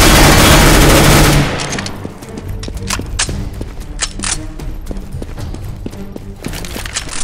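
In Counter-Strike GO, a PP-Bizon submachine gun fires after a loud noisy burst, followed by rapid, rhythmic shots and clicks with scattered metallic clatter, moderately close, no talking.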